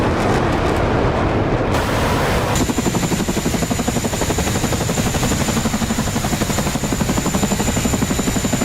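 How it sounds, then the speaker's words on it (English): Helicopters in the combat flight game DCS World pass low overhead, a loud rapid rotor chop with a whining turbine tone building in and thumping steadily, mixed with heavy engine rumble. "these are the helicopters going right over us"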